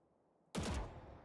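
A single gunshot fired one at a time in the tactical shooter Valorant: one abrupt, loud report after near silence, with a short ringing tail fading out.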